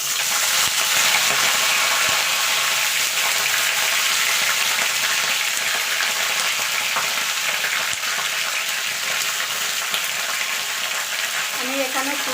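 Pui mitul greens frying in a hot wok, a loud steady sizzle that holds for the whole stretch, close up and unbroken.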